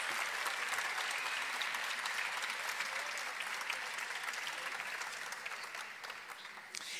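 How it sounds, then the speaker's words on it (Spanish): At a spring postgraduate graduation ceremony, the audience gives a strong, continuous round of applause for Humanities graduates, heard somewhat distant and fading a little at the end. "Un aplauso fuerte para los egresados de posgrados del Departamento de Humanidades."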